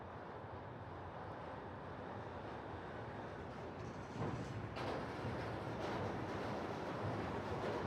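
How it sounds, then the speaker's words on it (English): Shonan Monorail train gliding past along a street in a quiet residential area of Kamakura, a steady broadband rumble throughout that swells slightly louder from about four seconds in, with some wind noise. "capture the monorail gliding down the street"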